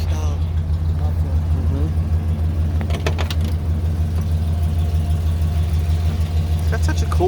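A 1967 Buick GS400 V8 idles through factory-style mufflers with a deep, steady low rumble close by, while brief voices are heard over it.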